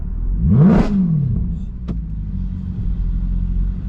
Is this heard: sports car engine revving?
yes